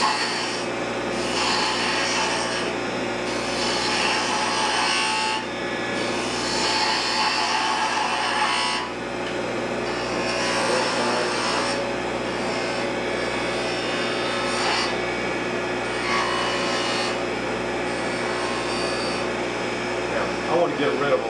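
A woodturning gouge cuts a wooden snowman spinning on a lathe, giving a steady rasping scrape in repeated strokes over the motor's constant hum, heard close.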